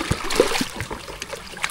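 Water splashes and trickles in quick, uneven scoops as a bucket is filled outdoors, close by and moderately loud, with brief soft splashes repeating throughout.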